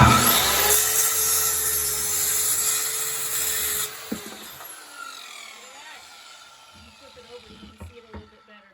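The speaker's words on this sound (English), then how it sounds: "we're just going to put the saw straight on like this, and you see how we've got the bevel going" A circular saw set at a bevel cuts through wood, a loud, sustained whine that runs for several seconds and then spins down, followed by a few light knocks and handling sounds.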